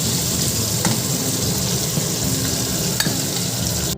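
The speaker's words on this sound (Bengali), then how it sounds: "এখন মাছ ভাজাটা বসিয়ে দিয়েছি" Steady, loud sizzling of fish frying in hot oil, a continuous crackling hiss with a few sharper pops, no voices.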